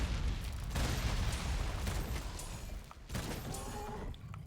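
Heavy bowgun shots in Monster Hunter World: Iceborne, fired with sticky ammo in a monster fight. They come as dense, booming bursts across the whole clip, with game combat noise and no speech.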